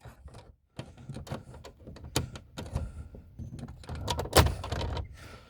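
Plastic radio trim panel on a Toyota Tundra dash being pried loose with pliers: a series of sharp clicks, snaps and scraping knocks at close range, with one loud crack of a clip releasing near the end.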